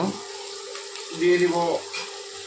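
Onions frying in a pan with salt for mushroom masala curry, cooked until reddish: a soft continuous sizzle with a brief voice-like tone rising over it midway.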